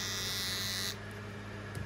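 Kemei 1971 hair trimmer fitted with an Andis T-Outliner blade running, a close, steady high-pitched buzz that drops to a quieter hum about halfway through.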